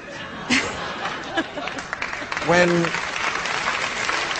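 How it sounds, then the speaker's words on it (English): A studio audience applauds with scattered laughter and chuckles mixed in, a continuous crowd clapping with a brief voice rising partway through. "You may applaud that."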